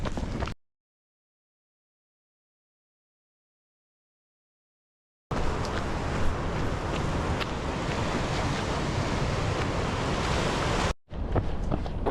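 Ocean surf on the Great Ocean Road, a continuous broad wash of breaking waves with wind rumble on the microphone, loud and steady after a stretch of silence, cut off briefly near the end.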